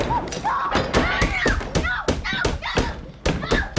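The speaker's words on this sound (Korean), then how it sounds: "콜이 주변 아이들의 장난으로 방 안에 갇혔을 때 소리를 지르며 문을 두드리는 것과" Repeated heavy thumps of fists banging on a locked door in the thriller film The Sixth Sense, a rapid irregular series of loud, close knocks with a voice apparently shouting between them.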